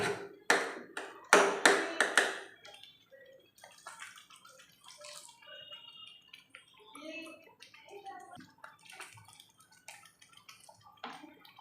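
Rinse water from a blender jar splashes into a pan while making paneer butter masala, a few loud gushing pours at first, then faint drips and clinks.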